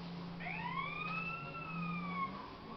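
An ambulance siren in the video game GTA San Andreas wails in long rising and falling sweeps, moderately loud over a steady engine hum, with no talking.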